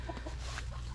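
A chicken clucks and murmurs close by in short, throaty bursts, continuous through the moment with no talking.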